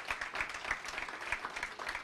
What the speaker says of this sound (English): Another round of applause for Shawn McClain.